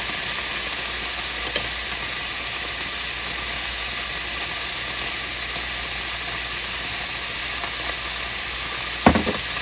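Red wine vinegar sizzling in a frying pan for maple-glazed pork medallions, a steady close hiss and crackle throughout with a brief sharper burst near the end.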